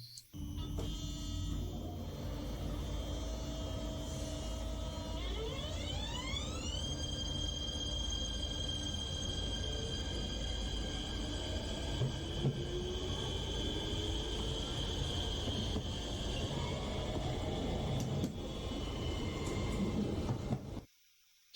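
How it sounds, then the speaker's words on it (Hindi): Electric locomotive traction motor whining steadily at close range, its tones sliding upward as it speeds up and then holding a sustained high hum over a rumbling base, with no talking. "ये साउंड था एक इलेक्ट्रिक लोकोमोटिव यानी कि बिजली से चलने वाले ट्रेन की मोटर का"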